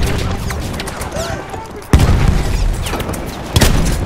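Grenade blasts in Battlefield 1 on the Suez conquest map land amid busy combat noise, with two sharp, loud booms about one and a half seconds apart and shouting soldiers over the background clamor.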